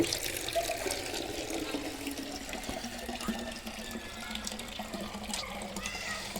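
Water pours steadily from a tap or hose into a mini pool, a soft continuous splashing and trickling close by at low level.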